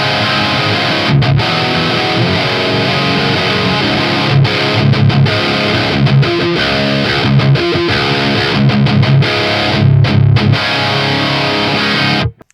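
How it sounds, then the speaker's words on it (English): Heavily distorted electric guitar through a downloaded Rectifier amp profile, playing chugging riffs with short muted gaps and stops, loud and unaccompanied before cutting off abruptly. "So that's like a rectifier sound that I downloaded from Tone 3000."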